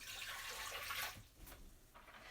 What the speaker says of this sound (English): So we have our cup of water, and pour that in.